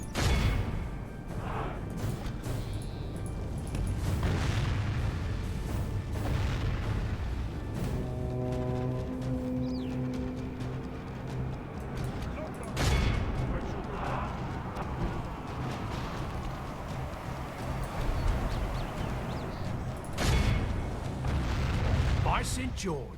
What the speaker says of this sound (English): Guess those are some kind of cannons there.